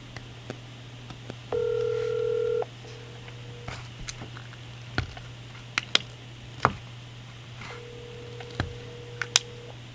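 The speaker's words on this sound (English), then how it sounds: "I can try and give him a call and see if he can jump back on." Telephone dialing tones followed by a steady ringback tone, repeated as a call is placed over a phone line during a special meeting, over a low hum with scattered faint clicks.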